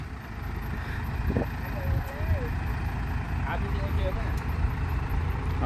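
A dump truck's diesel engine running just after starting, a continuous low rumble at moderate level with brief clanks and a faint squeal from an air-conditioning belt, while people talk over it.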